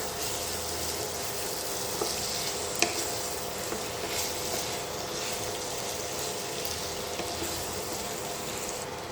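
Mutton sautés with coriander and cumin powder for a Bengali home-style curry, giving a quiet, even sizzle that runs throughout, with a faint stirring knock now and then.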